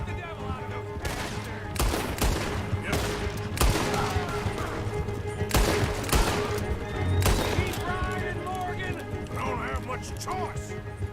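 Rapid gunfire in Red Dead Redemption 2 during a horseback fight, with repeated loud broadband shots and volleys over hoofbeats and game music, while someone talks throughout.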